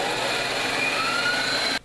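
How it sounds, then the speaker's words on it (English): A wire wheel on a grinder scours scale off a forged steel pipe, giving a loud, steady, close whirring grind with a thin whine that holds constant before cutting off abruptly at the end. "Now let's clean it all up with the wire wheel."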